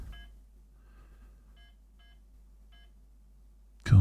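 Keys pressed on a Nokia 101 mobile phone give four or five short, clean electronic beeps spaced about half a second apart, quiet and close, with no talking.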